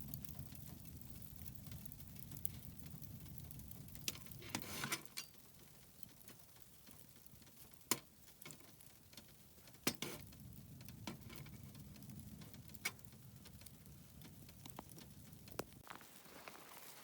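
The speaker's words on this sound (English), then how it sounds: "Getting a pretty good amount of freezing rain here." Freezing rain falls on a hot tent with a wood stove inside, making a faint, steady patter and scattered ticks of pellets on the fabric and tarp, broken by a few louder taps.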